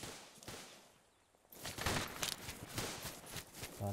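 Suppressing gunfire during military section assault training: distant rifle and machine-gun bursts crackle in overlapping volleys, quiet at first and then building into sustained fire across the range.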